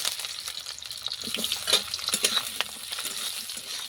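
Whole garlic cloves and large-cut onion pieces fry in a pan with a steady, close hiss of sizzling oil and soft stirring scrapes, no voices.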